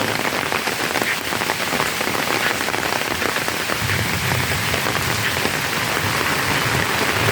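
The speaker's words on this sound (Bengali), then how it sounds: "এত সুন্দর বৃষ্টি হচ্ছে" Steady, loud rain pours down near trees and a bamboo grove, a dense even hiss of drops hitting leaves and ground, with no talking.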